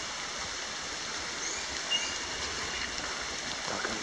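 Water rushes steadily through a flooded creek in February, a constant broadband roar with no breaks, close by and fairly soft, with no one speaking.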